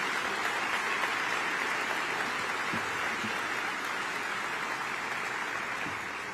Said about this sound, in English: Let's have a loud round of applause for Senator Dick Durbin